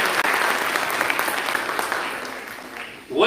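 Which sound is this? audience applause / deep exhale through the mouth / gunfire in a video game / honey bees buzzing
audience applause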